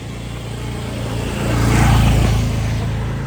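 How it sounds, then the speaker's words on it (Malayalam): A vehicle passes on a quiet road early in the morning, its engine and tyre noise swelling to a loud peak midway and then fading slowly, over faint steady background hum. "ഇപ്പോൾ വണ്ടികൾ വരുന്നുണ്ട്."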